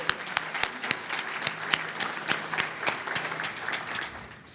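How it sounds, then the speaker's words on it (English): An audience at a legislative briefing and reception gives the event staff a warm round of applause, steady clapping from a moderate-sized crowd that fills the room for several seconds. "can we give my staff a huge round of applause?"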